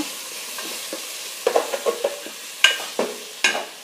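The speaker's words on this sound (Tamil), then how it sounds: "நல்லா மிக்ஸ் பண்ணிக்கோங்க" A spoon scrapes and knocks against a pot of dal sambar, with irregular stirring clatters and several sharper metallic taps over a quiet background and no talk.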